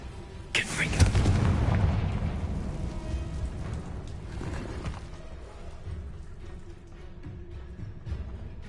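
A Confringo blasting spell explodes in a Harry Potter video game: a heavy, close boom with a rumbling burst that swells for about a second, then trails into a long, gritty debris-like wash fading over several seconds.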